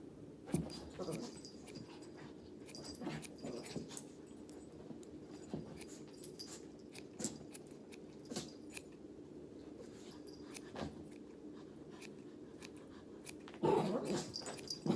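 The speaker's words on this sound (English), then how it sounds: "my dogs are going nuts behind me right now" Dogs in a room bark, whimper and growl excitedly in scattered bursts, heard in the background at moderate distance, with a louder flurry near the end.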